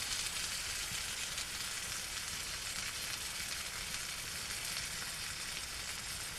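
Food sizzling in a pan on a hot tent stove, a steady, even frying hiss that runs unbroken throughout at moderate volume, with no talking.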